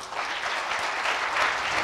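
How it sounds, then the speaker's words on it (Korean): Audience applause at a Korean venture-business forum session, a steady, dense wash of clapping from a full hall, moderately loud and even throughout the short stretch. "수고해 주신 이재관 부회장님께 다시 한번 큰 박수 부탁드리겠습니다"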